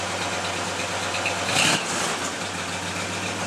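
A 1965 Ford Galaxie 500 LTD V8 with dual exhaust idles steadily nearby, a low even rumble with a brief swell partway through.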